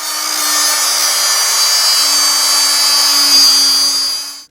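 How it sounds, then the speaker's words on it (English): A cutoff tool grinds through a stuck toilet flange bolt, a loud, steady high-pitched whine that holds for about four seconds before cutting out, close up with no voices. "So I'm going to have to use a cutoff tool"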